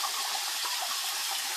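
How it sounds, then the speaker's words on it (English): A bin of tank water gushes into a 350 litre Juwel Trigon planted aquarium, a loud, steady rushing pour with no pauses and no talk. "I'm going to put this bin of water in as well,"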